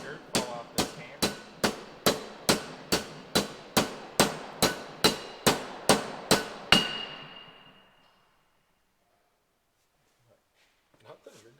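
A hammer pounds steadily, about sixteen sharp, ringing blows in a quick even rhythm, then stops; faint voices murmur near the end.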